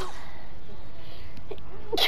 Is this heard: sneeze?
yes